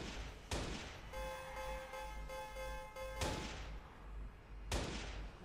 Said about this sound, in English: What's this guy shooting at?